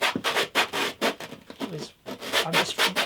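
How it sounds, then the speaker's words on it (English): Hand sanding with 120 grit sandpaper stuck to an MDF block, likely on the bridge plate of an antique parlour guitar, giving repeated close scratchy rubbing strokes in a steady back-and-forth rhythm. "I've just stuck some 120 grit onto the back of a block of MDF"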